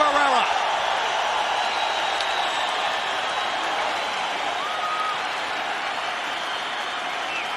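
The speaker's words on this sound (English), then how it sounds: "the entire crowd is on its feet in appreciation for what they saw in round 5" A boxing arena crowd applauds and cheers after round five of Erik Morales versus Marco Antonio Barrera, a steady, dense wash of clapping and crowd noise filling the whole stretch with faint talk over it.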